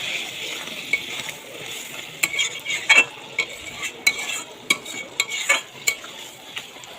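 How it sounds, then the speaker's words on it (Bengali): Boiled lentils and potatoes fry in spices as a spoon stirs them repeatedly, producing rhythmic scraping and clattering against the pan over a low sizzle, close and fairly loud, with no talking. "এবার সিদ্ধ করে রাখা ডাল আলু দিয়ে দেবো। এটাকে ভালো করে কষিয়ে নেব।"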